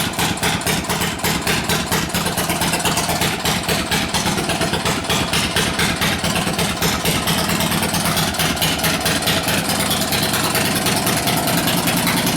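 A Wade one-man drag saw engine runs steadily and loud throughout. Its rapid, even firing pulses give a rough, buzzy, close tone with no speech.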